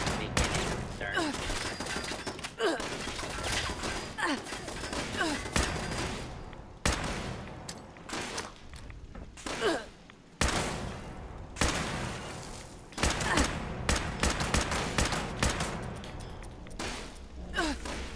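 Rapid bursts of gunfire from a Fallout 76 game, loud and repeated in dense volleys across the stretch with brief gaps, a sigh or gasp heard between shots.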